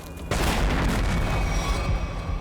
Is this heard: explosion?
yes